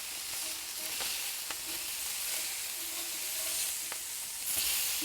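A very thin birria smash burger patty sizzles on a Solo Stove Steelfire griddle, giving a steady, close frying hiss with faint crackles throughout and no talking.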